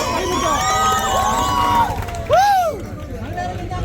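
A lively crowd welcoming guests at an inauguration event cheers, shouts and whistles loudly throughout, with a sharp rising cheer near the end and voices mixed into the din.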